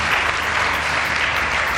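An audience applauds Pol Espargaro at a live MotoGP eSport event, a brief, dense burst of steady clapping with no pauses.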